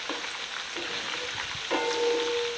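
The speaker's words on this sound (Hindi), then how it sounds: "और फिर इसके अंदर हम ऐड करेंगे गोश्त। लहसुन अदरक के कच्चेपन को हम पहले दूर करेंगे, थोड़ा सा भूनेंगे इसको।" Meat sizzles in a pan with garlic and ginger for chicken korma, a steady close frying hiss with faint stirring, growing slightly louder near the end.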